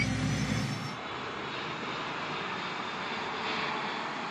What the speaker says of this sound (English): Masvidal arrives via private plane instead of charter.